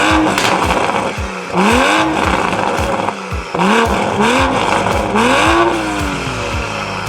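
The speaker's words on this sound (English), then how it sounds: "This is what it sounds like with the stock exhaust and the downpipe installed." A Toyota Supra A91 engine with stock exhaust and an aftermarket downpipe revs hard several times in quick bursts, the exhaust rising and falling sharply, loud and close, with no talking.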